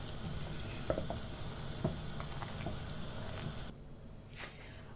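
Kadhi bubbles gently in a pot over a low flame, a steady soft sizzle with small pops and patters, quiet and close, easing off near the end.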